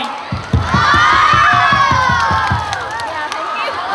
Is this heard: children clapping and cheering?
yes